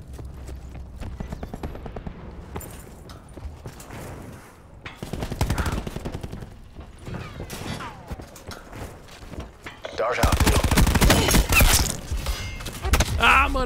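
Repeated bursts of gunfire fill a Call of Duty Black Ops 4 match, scattered rapid shots and heavier machine-gun volleys from near and far, building to a loud sustained barrage toward the end.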